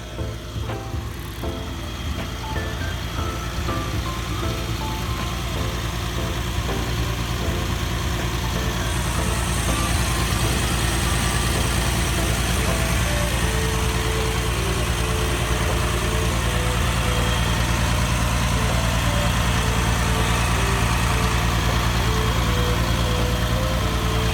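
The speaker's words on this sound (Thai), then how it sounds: "เป็นเครื่องยนต์ 6 สูบเทอร์โบนะครับ" A Caterpillar 330D 30-ton excavator's C9 six-cylinder turbo diesel idles steadily and close by, a constant low rumble with mechanical whine, unchanging for the whole stretch.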